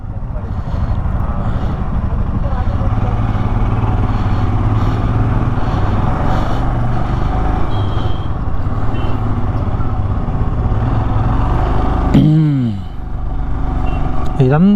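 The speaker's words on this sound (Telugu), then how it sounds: "ట్రాఫిక్ చూడండి" Road traffic of motorcycles and cars on the approach to Gue Monastery in Spiti, heard as a loud, continuous close engine rumble and drone that barely lets up, with a voice speaking briefly near the end.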